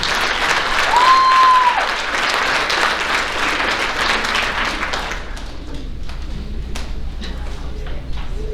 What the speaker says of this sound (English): Let's give all these young men another round of applause